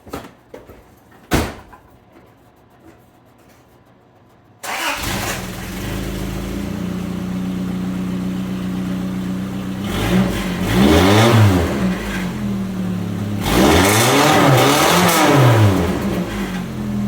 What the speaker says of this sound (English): I'm gonna go do a little cold start right now, and we'll see how this sounds.